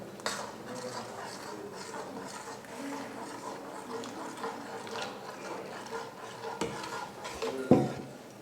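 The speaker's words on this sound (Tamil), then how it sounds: "இப்போ கொஞ்சம் கொஞ்சமாக ஊற்றி கலந்துக்கலாம்." A spoon stirs ragi porridge mixture into cooked rice in a pot, giving soft, irregular scraping and clinking against the metal, with a sharper knock near the end.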